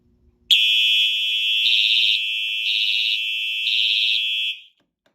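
A loud, piercing fire alarm blares steadily for about four seconds during a test, its tone shifting in a regular alternating pattern before cutting off.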